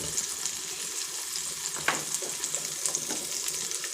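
Masala and coriander powder frying in oil over a low flame on a stove for an egg fry, a soft, steady sizzle with faint crackles and the odd stirring scrape, heard alone and fairly quiet.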